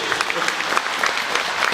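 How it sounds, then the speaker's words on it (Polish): Concert audience applauding after a pop song performance at a radio station's hit-of-the-year concert: loud, steady, dense clapping with no break over the whole short stretch. "Wielkie brawa."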